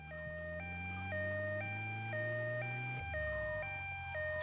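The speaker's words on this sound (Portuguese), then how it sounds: "isso é ambulância" An ambulance siren in GTA Vice City Stories on PS2 wails in a steady two-tone alternating pattern, loud and close, over a low engine rumble that shifts partway through.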